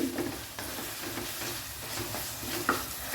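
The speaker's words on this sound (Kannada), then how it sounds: "ಟೊಮೆಟೊ ಸಾಫ್ಟ್ ಆಗೋಲ್ಲರಿಗೆ ನಾವು ಫ್ರೈ ಮಾಡುವ" Tomatoes fry in a pan for Kashmiri chicken gravy, giving a steady close sizzle with faint scraping stirs and small pops running throughout, without any talking.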